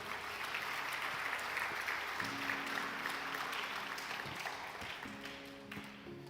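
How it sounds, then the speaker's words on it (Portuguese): Church congregation applauding loudly and steadily at a Portuguese-language service, a dense wash of many hands clapping throughout, with a faint sustained tone rising beneath toward the end. "Se você crê, aplauda o Senhor bem forte."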